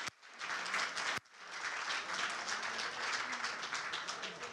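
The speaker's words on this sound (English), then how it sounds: "Let's give a big round of applause to all our winners." An audience at a hurricane awareness fair in Brownsville applauds the winners, a brief burst of clapping, a sharp break, then sustained, loud, dense clapping from a room full of people.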